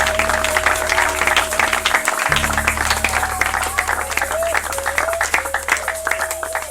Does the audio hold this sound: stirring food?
no